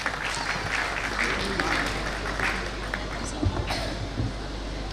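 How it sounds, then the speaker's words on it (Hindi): Audience clapping at an office Diwali celebration, a steady wash of applause from a crowd indoors with voices mixed in throughout. "जोरदार तालियां हो जाए।"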